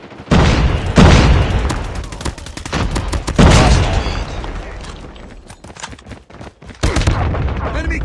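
Call of Duty combat erupts in a loud burst of blasts and rapid gunfire, heavy booms punching through dense firing across several seconds, closely miked.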